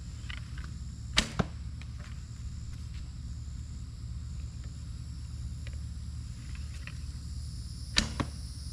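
River cane practice arrows tipped with field points are shot into a target about 10 to 15 yards away. Two sharp, distinct impacts land several seconds apart over a steady outdoor hum.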